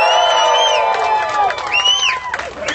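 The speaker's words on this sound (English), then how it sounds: "Good crowd down here today" An outdoor crowd gathered for a live street game draw in western Nova Scotia, with cheering and whoops rising and falling over a steady murmur, and people calling out nearby.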